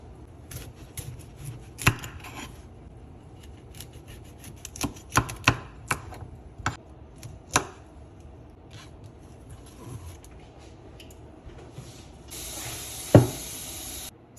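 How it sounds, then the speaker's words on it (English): Knife cutting raw salmon into cubes in a home kitchen, a scatter of sharp, irregular clicks and taps against a cutting board with quiet gaps between, close by and without talk. "So I went ahead and cut the salmon up in some cubes."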